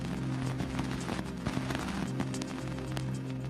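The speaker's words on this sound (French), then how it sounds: "Voici le bruit des poussières heurtant l'antenne de l'engin." Converted radio recording from the Cassini probe near Saturn's F ring, dust grains striking the spacecraft's antenna: dense crackling, pattering noise with scattered sharp ticks over a steady low hum, continuous and fairly loud throughout.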